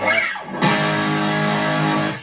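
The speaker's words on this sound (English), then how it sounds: "So that's the turbo distortion mode on the" An electric guitar played through a Boss OD-2 overdrive pedal in turbo distortion mode: a brief picked phrase, then a chord that rings out thick and sustained for over a second and a half before fading.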